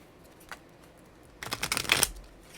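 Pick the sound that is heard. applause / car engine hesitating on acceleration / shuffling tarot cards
shuffling tarot cards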